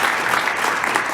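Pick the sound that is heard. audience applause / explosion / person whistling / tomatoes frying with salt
audience applause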